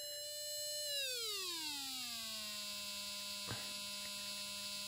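A buzzy harmonic test tone from an audio function generator sweeps steadily downward in pitch, then settles on one low steady note. It sounds continuously and alone, with a faint click partway through.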